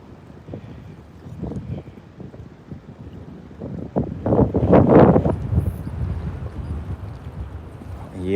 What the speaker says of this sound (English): this wind is gonna beat me up today